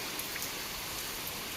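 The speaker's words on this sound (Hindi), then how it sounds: "बारिश आप देखो कितनी तेज़ है, आवाज़ तो आप सुन ही रहे होंगे" Heavy rain pours down in Dehradun, a dense, steady hiss of drops hitting surfaces that carries evenly through the whole moment with no voices.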